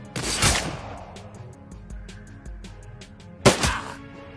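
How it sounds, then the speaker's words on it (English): Two loud, sharp gunshots ring out in the game Shadowrun Dragonfall, about three seconds apart, each with a booming decaying tail, while faint rhythmic clicking and musical tones play between them. "that gunshot is loud."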